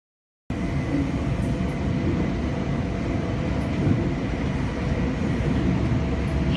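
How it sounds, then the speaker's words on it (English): A train runs across a bay in a city, its steady rumble and rolling clatter droning continuously after a moment of silence, with faint higher ticks along the track and no voices. "so she took a train across the bay."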